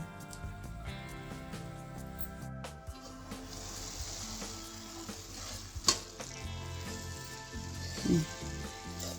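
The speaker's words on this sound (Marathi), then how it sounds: "आता 5 मिनिटासाठी मी झाकून ठेवणार, एका वाफेवरी भाजी शिजून आपली तयार होणार आहे।" Phodshi vegetable bhaji sizzles steadily in a covered pan, a soft continuous frying hiss with a faint hum underneath and a couple of small pops, with no talk.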